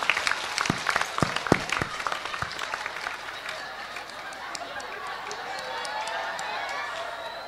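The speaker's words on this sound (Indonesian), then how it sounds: "Tepuk tangan dulu dong." An audience at an Islamic sermon breaks into loud, close clapping for about three seconds, then the applause fades into a softer crowd murmur.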